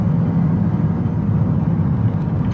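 A Porsche Taycan Turbo S in Sport Plus mode plays its artificial sport sound, a steady low synthetic hum heard from inside the cabin while driving, loud and even throughout with no talk.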